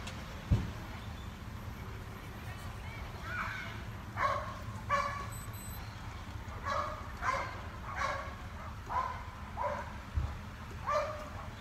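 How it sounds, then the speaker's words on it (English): Dogs bark outdoors at a distance during a police encounter, a steady series of moderate barks spaced about every half second to second over constant background rumble. "Yeah, they got dogs out here."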